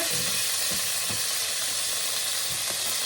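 Butter sizzles and fries in a hot pan at the start of cooking Filipino ginisang monggo, a steady close crackling hiss with a few soft stirring knocks, no voices.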